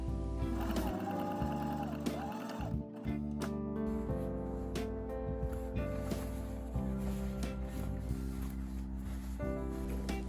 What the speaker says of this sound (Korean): 하지만 귀찮을 경우 그대로 재봉하여 줍니다